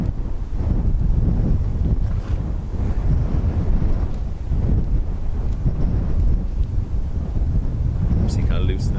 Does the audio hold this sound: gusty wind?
yes